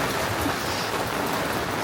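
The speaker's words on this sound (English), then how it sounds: "It just started raining and the sun's coming up" Steady morning rain falls over an anchorage at Prickly Bay, Grenada, a dense, even patter of drops that holds at one level throughout, with no voices.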